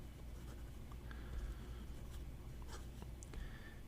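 Fountain pen with a Wing Sung number 8 stub nib, in a Wing Sung 630, writing dark red ink on paper: quiet, close scratchy strokes over a low steady hum, faint and intermittent, with no talking.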